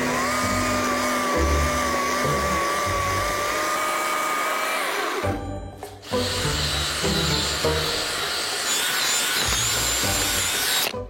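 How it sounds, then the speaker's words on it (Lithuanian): A drill bores holes into an upright pine trunk being made into a sculpture base, a loud steady grinding whir that runs continuously, dips briefly in a short pause midway, then resumes. "Dabar išgręžiau 4 skyles"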